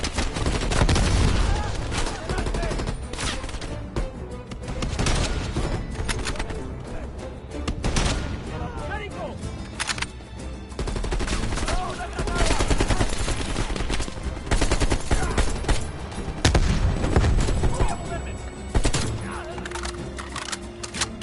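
Sustained machine gun fire in Call of Duty Black Ops Cold War, dense overlapping bursts and rattling shots throughout a chaotic battle with booms, with voices talking amid the shooting.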